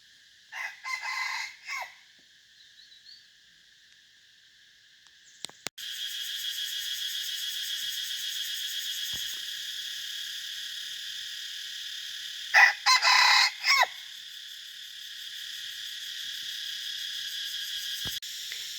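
Jungle fowl crowing during a wild-fowl hunt with a decoy bird, three distinct crow bursts near the start and middle, set against a steady high insect or cricket drone with no talk.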